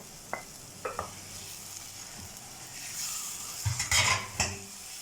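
Two large tomatoes added to a chicken curry pan, bursts of frying hiss and sizzle with scraping stirs and utensil knocks against the pan, loudest toward the end.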